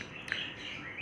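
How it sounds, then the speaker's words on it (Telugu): Tamed pet birds in a cage give a few faint, high chirps over a quiet room background, brief and fairly close. "ఇవన్నీ నా టేమ్డ్ బర్డ్స్ అండి"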